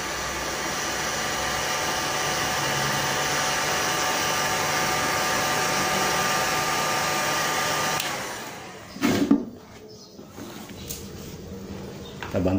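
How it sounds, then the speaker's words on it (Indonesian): A hair dryer or heat gun warms the double-sided tape under a KYT NFJ helmet spoiler, blowing in a loud, steady whoosh for about eight seconds before cutting off, followed by a few light handling knocks. "kita panaskan dulu agar double tape nya sedikit melunak"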